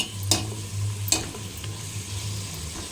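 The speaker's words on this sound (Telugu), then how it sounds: "టమాటా వేసుకుందాం టమాటా మగ్గించుకుందాం ఉడకాలి టమాటా అంతా" Tomatoes cook in a pan for mutton head curry, a soft continuous sizzle broken by two sharp scraping stirs early on, close and alone without talk.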